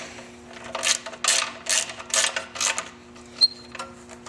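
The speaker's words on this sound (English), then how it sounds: "tighten the one bolt up just a little bit, get it snug" A ratchet or wrench snugs a bolt on a skid plate being installed on a Victory motorcycle, giving a run of about six quick, evenly spaced clicking bursts, fairly close, with a steady hum underneath and a brief metallic tick near the end.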